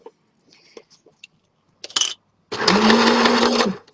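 A sewing machine back-stitches squares of tie-dye fabric for a reusable shopping bag, with a few small clicks and a brief burst of handling before the motor runs in one loud, steady, close stretch of humming.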